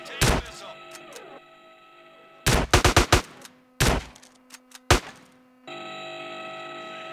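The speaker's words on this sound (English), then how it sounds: "If I do this and I practice the SMG, so loud" SMG fire at a practice range in GTA San Andreas comes as separate sharp bursts, first a single loud crack, then a rapid cluster of shots, then isolated reports with metallic clanks between them, ending in a steady hum.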